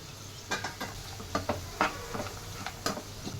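A spatula stirs turmeric and pre-fried peanuts with capsicum in a frying pan, giving a rhythmic run of sharp scrapes and clicks over a faint background sizzle, close up with no voices.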